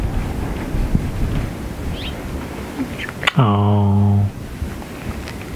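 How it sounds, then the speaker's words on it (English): Strong wind buffets the microphone outdoors at an off-grid home build site, a steady rumbling gusty roar with a brief loud tonal burst partway through, and a short exclamation from a voice. "I won't let this scary wind get you."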